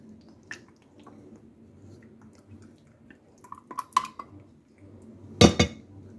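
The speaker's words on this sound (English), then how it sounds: "well, I just popped a big old wad of that in the floor" A blob of egg and sour cream mixture drops onto a home kitchen floor with a wet splat, after clinks of utensils and dishes, then a sharper loud splatter near the end, with no talk.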